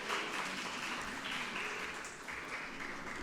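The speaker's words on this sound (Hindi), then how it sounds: "अगर हुआ तो ज़ोरदार तालियां हो जाए हमारे प्यारे प्यारे सीनियर्स के लिए" Loud, steady applause from a school farewell audience honouring the outgoing seniors, a dense wash of many clapping hands sustained evenly throughout without a break.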